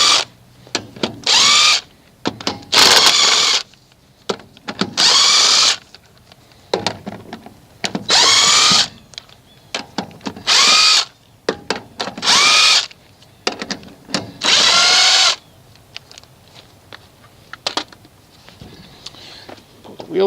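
A power tool, likely an impact wrench or drill, removes a wheel from a 1988-1998 Chevy K1500 Silverado pickup raised on jack stands. There are repeated loud whirring bursts of one to two seconds with short gaps and faint clanks between them.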